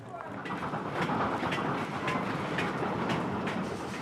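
Goods wagons of a 1930s freight train clank and rattle along at about 30 miles per hour, a continuous rumbling roll with repeated metallic knocks.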